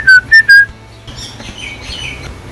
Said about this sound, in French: Vous avez écouté les petits oiseaux là?